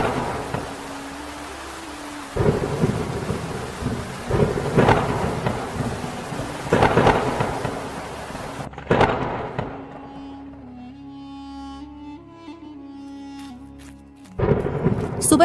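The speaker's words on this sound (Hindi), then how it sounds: "धीरे धीरे हवा तेज हुई और फिर ऐसा तूफान आया कि जैसे कयामत उतर आई हो। रात भर तेज बारिश होती रही।" A night thunderstorm brings heavy rain and rising wind, with repeated loud thunder cracks and rumbles over a dense rain roar. The storm later drops to a quieter wash beneath a musical tone before another loud burst returns.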